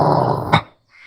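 A dog growls in a short rough burst that swells briefly near the end, then cuts off into near silence.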